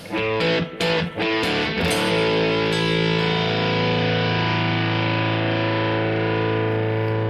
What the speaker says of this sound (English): I'll turn the fuzz on.